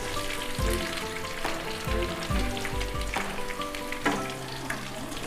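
Onions sautéing in oil sizzle steadily up close, with repeated low thuds and scrapes of a stirring spoon against the pan.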